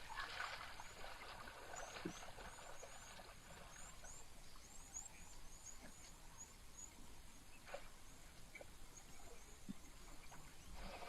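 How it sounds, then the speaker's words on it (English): An elephant splashes in a waterhole pan, giving faint trickling, dribbling water sounds with occasional small splashes, heard at a distance under outdoor ambience and chirping birds. "Let's have a listen to this elephant splashing."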